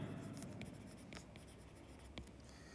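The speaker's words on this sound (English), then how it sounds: "I have to write straight line." Pen writing on paper during a physics exam solution, a quiet steady scratching with a few faint taps, close by and alone.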